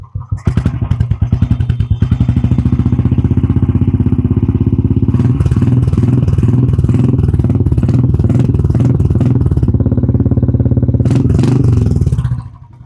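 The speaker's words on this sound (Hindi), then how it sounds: "अब करते हैं इसको रेव, थोड़ा एक्सीलरेशन देते हैं और सुनते हैं इसकी आवाज एक्चुअली कैसे आती है इस एग्जॉस्ट की।" A customized Jawa bobber motorcycle with a custom exhaust rumbles loudly at idle, then revs repeatedly in sharp bursts with a deep, throaty exhaust note before cutting off.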